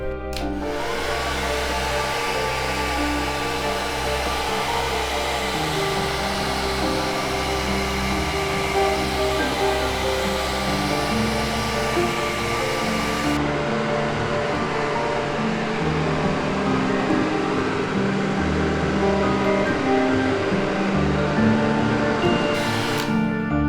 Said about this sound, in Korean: 이 헤어드라이기도 키면요. 이렇게 바람이 나오는데요.